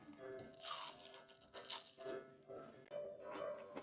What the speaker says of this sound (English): That's got some serious crunch too.